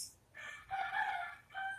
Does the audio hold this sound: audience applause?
no